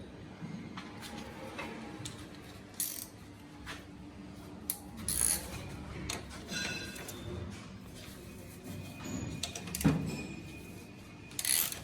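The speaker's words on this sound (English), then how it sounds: "we're gonna remove these 2 bolts from the frame using a 12 millimeter socket and a ratchet" Ratchet with a 12 mm socket loosening frame bolts on a Yamaha Tenere 700 motorcycle, quiet intermittent clicks and metallic clanks, close up with low background hiss.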